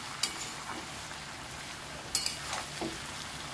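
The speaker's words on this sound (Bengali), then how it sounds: "আর পেঁয়াজটা দিয়ে নেড়েচেড়ে আলুর সাথে ভেজে নেব।" Chopped onions frying with potatoes in a pan give a faint, steady sizzle with a few soft stirring scrapes and clinks, no talk over it.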